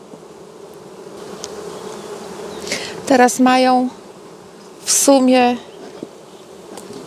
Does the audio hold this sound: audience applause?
no